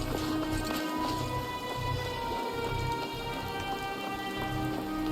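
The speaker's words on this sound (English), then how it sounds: "I would like it for it to stop raining, if possible." Rain falls steadily in the video game Skyrim, a dense, continuous hiss of drops with soft rhythmic thuds, likely footsteps or hooves, underneath throughout.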